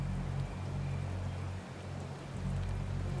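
Rain falls in a video game as a steady hiss over a low droning layer of game music, with no talking.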